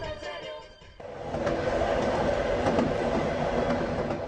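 A Trans-Siberian Railway train carriage rolls along the tracks with a steady, loud rumble and rhythmic clatter that swells after a brief quieter moment, continuing without speech.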